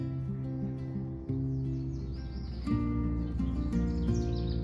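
Faint bird chirps and tweets come through over a steady, loud musical drone that dominates the sound, at a nature center.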